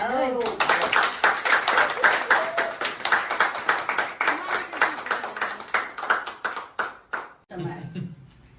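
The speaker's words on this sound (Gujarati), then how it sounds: "તાળી પાડજો તાળી કેમ પાડજો" At a party, a group of people clap their hands in a steady, rhythmic beat for several seconds before the clapping breaks off and voices are heard.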